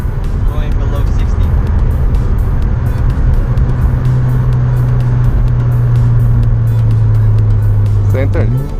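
A Mazda RX-7 FD with a rotary engine drones steadily at close range from inside the car, its low hum rising slightly in pitch toward the end, with a voice speaking over it.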